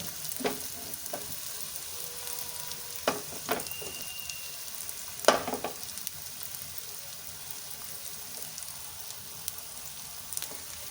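Potatoes fry in a pan, a soft steady sizzle with occasional clinks and scraping stirs, fairly quiet and close, with no talk.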